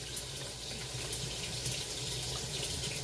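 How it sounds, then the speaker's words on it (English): Cut cabbage greens being rinsed in a kitchen sink, with a steady, close rush of running and pouring water that holds at an even level throughout, with no voices. "I'm rinsing them, and I'm going to pour this water off of them."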